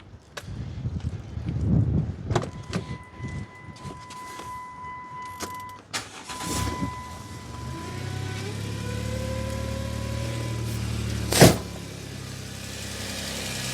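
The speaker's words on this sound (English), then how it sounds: "Then you press this button here, and now the car comes to life." A car with a dead battery starts up after a push-button jump starter is connected, its engine catching and settling into a steady idle amid dashboard chimes and tones, a sharp click near the end.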